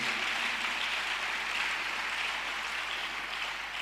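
A church congregation applauding at a sermon, a steady dense wash of clapping that holds evenly throughout, with no voices over it.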